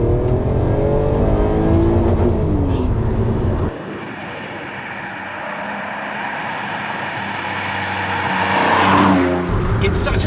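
An Alfa Romeo 147 GTA's engine is revved hard, a loud close roar climbing through the gears with a sharp shift and a rising, rasping crescendo; someone speaks over part of it.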